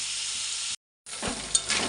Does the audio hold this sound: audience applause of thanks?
no